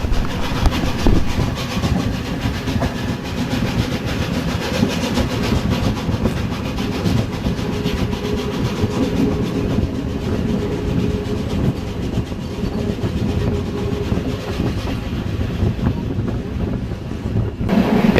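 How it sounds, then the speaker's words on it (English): A passenger train hauled by a blue engine pulls out of a station on the Tatra line, a continuous heavy rumble and rattle of wagons with wind buffeting the microphone, steady and loud throughout. "the lovely blue engine we saw yesterday is hauling the train out of the station"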